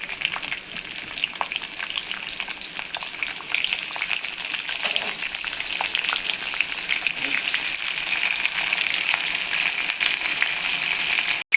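Carrot and capsicum being sautéed in oil for noodles give a loud, steady, close hiss of frying that holds evenly throughout and ends with a brief knock.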